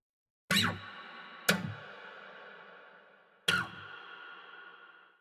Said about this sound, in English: My libraries also provided me with a couple of stumps and imperfections that I could add to the performance